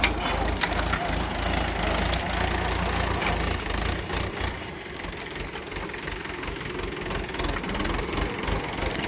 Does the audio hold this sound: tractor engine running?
yes